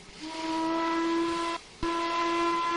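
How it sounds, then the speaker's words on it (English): A steam locomotive whistle in the Trainz 2019 train simulator game sounds a loud, sustained chord-like tone, breaking off briefly mid-blast with a hiccup before resuming, heard alone. "And then there's this, the whistle."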